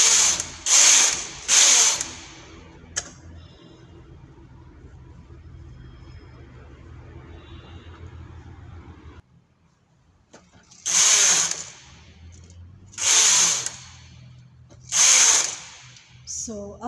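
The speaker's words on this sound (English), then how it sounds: "you just pull back all the needles and then knit the 6 rows again" Knitting machine carriage sliding across the needle bed, loud rasping whooshes in quick bursts, a couple at the start, then a quiet stretch, then four more evenly spaced passes knitting rows.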